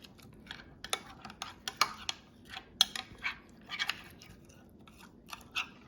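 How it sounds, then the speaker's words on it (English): A spoon stirs lemon-flavored olive oil in a small pan, giving quiet, irregular clinks and scrapes, sharp metallic taps scattered over a faint background. "I'll just stir it up with a spoon."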